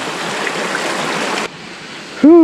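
Semuncar waterfall on the Merbabu slope rushes in a steady broadband wash, which then drops to a softer hiss before a short tonal sound cuts in at the very end.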